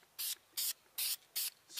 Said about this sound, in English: sprayed over it like that just to kind of give it a smoky type of look